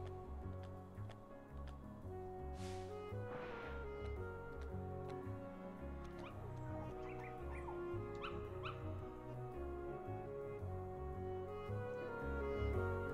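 Puppies from the Kingdom Hearts game yip and whimper in short scattered bursts, faint against steady background game music, with no talking.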